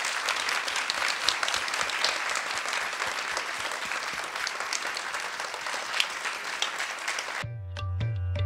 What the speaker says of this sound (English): Again, big applause for our Guruji,